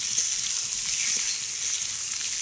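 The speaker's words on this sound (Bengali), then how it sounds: "আমি পেঁয়াজের সাথেই অল্প করে একটু ভেজে নেব" Boiled potatoes with onions fry in a pan, a steady, even sizzle holding at close range throughout with no voices.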